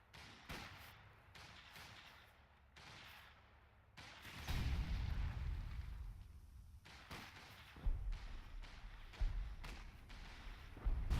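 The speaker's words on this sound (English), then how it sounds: "Some mortar cover going down." Mortar fire in the strategy game Battle for Caen at Tilly-sur-Seulles, with repeated dull thumps and booming impacts landing at irregular intervals, some heavier and closer, over a rumbling battlefield backdrop.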